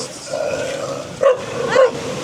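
A white dog barks in two short bursts while walking through residential properties in the Philippines, moderately close over steady outdoor background noise.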